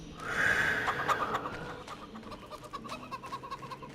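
Chickens cluck and cackle in a Farm Sim 25 farmyard, a louder squawk early then softer repeated clucks tapering off, close and alone without talk.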